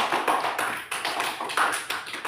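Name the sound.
children clapping for group 3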